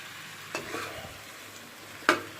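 Vegetables, spices and cooking oil being mixed in a pan for a tinda curry, a soft sizzle under two sharp stirring scrapes of a spoon against the pan, close by.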